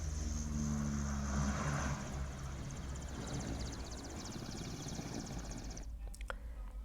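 An air force aircraft or helicopter at the Chinyalisaur airstrip drones steadily with a propeller-like hum, starting with a stronger low engine tone that fades into a broad, washing roar before cutting off near the end.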